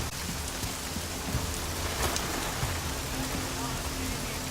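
Steady rain pours down in a night street scene of the video game Deus Ex: Mankind Divided, a dense, even hiss with faint low rumbles that holds constant throughout.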